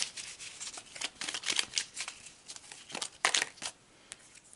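Tarot cards shuffled and pulled from a deck, a run of close crisp riffling and flicking bursts with short pauses, no talking.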